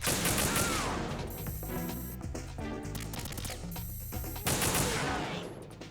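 Sustained gunfire from the stealth action game Metal Gear Solid 2 rattles on without pause, dense overlapping shots mixed with game sounds at steady loudness.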